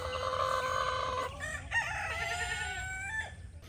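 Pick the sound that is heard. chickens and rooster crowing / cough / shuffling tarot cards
chickens and rooster crowing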